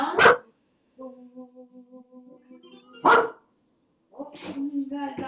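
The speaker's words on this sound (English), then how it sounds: "Oh, you got a dog barking." A dog barks during a flamenco dance class, three sharp separate barks spread across the span, with an instructor's voice talking in the gaps between them.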